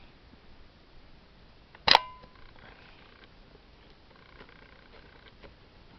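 One sharp mechanical click of a FED Soviet film camera shutter firing after repair, followed by a brief faint whir and soft ticks in a quiet room.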